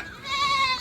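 A young goat lets out a single short, high-pitched bleat nearby.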